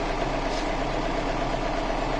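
A tractor with about 960 engine hours idles steadily, heard from inside its closed, air-conditioned cab as a constant low rumble with no talk.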